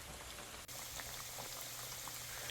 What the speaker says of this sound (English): while my ribs are frying